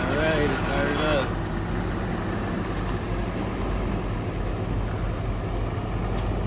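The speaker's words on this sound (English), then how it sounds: "Now this is supposed to be the donor engine. Let's make sure it sounds okay." Hummer H3 donor engine idling steadily after being started, a low continuous rumble close by, with a brief tonal squeal in the first second.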